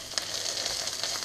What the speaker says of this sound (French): Maintenant, on va les faire légèrement griller. Voilà, mes champignons sont pratiquement prêts maintenant.